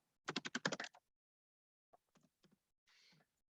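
Quick burst of computer keyboard typing, about eight rapid close keystrokes in a row, then a pause and a few scattered single taps and a short rattle, quiet and with no voices.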